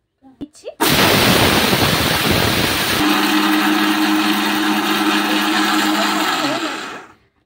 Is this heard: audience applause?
no